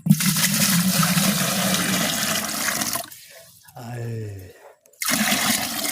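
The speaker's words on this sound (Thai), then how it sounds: "เอาน้ำทีลงก่อน" Water is poured from a container into a freshly dug hole behind a house: a loud rushing splash for about three seconds, a brief lull with softer trickling, then the gushing resumes; a voice is briefly heard.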